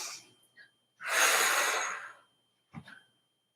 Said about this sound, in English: Still breathing.